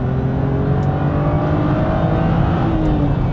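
A BMW 125i Cabriolet's six-cylinder engine climbs steadily in revs toward the red line, a loud, close, sustained rising drone heard from inside the car without any talking.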